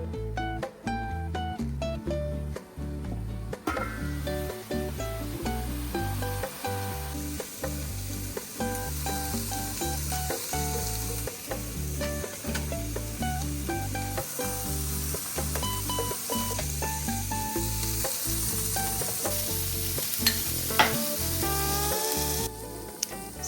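Filet steak sizzles and fries steadily in tallow in a pan, a loud continuous crackle with bursts of spitting fat and occasional stirring, running without pause and with no talk.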